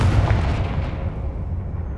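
A Confringo spell explosion in the Hogwarts Legacy video game, heard as a loud, deep booming blast that rumbles on and decays over two seconds, with no voices.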